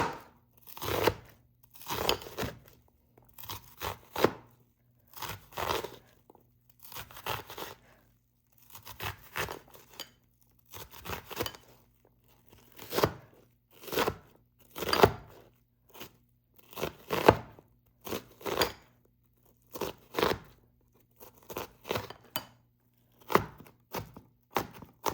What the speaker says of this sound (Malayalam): നമ്മൾ സവാള ചെറുതായിട്ട് നമുക്ക് ചെറിയതായിട്ട് അരിഞ്ഞെടുക്കാം.